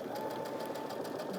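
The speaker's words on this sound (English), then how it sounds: "We're going to start stitching on this end." Steady, continuous whir of a sewing machine stitching a 1/4-inch quilt seam, with a rapid even mechanical rhythm, close and moderately loud, no voices.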